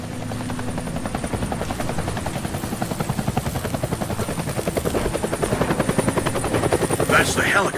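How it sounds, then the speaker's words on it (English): Helicopter in the video game Deadlight, a steady loud rotor chop pulsing throughout and growing slightly stronger toward the end, with a faint voice in the background. "That's the helicopter chasing my friends."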